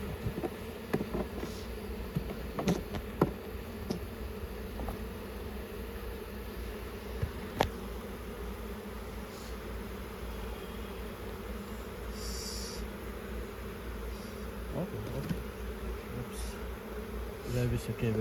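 New Zealand honeybees buzzing steadily at an open hive during installation, a dense continuous drone close by with occasional sharper passes, and faint talk now and then.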